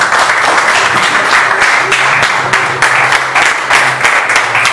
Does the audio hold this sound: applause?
yes